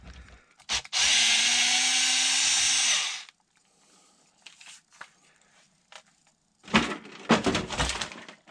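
A power driver whirs loudly for about two seconds as it backs screws out of an Arrma Senton RC car's upper gearbox cover, then comes quieter handling clicks and a burst of rattling, scraping parts.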